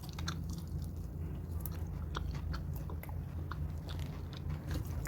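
Close, quiet chewing and biting of coconut spleen curry while tasting it, soft wet crunches repeating irregularly for several seconds with no talking.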